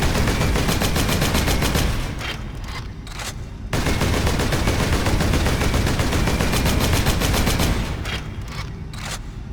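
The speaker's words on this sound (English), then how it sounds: "The gun sound effects especially are the epitome of this design." Gunfire from the video game Warhammer 40k: Space Marine rattles in dense, rapid bursts, with two short pauses in which single shots crack before the sustained automatic fire resumes.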